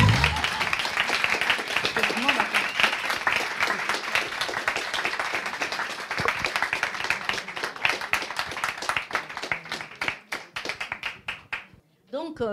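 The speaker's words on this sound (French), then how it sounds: "vous pouvez nous applaudir quand même," Audience applause after an academic talk, sustained crowd clapping with distinct individual claps growing sparser toward the end, with voices mixed in underneath.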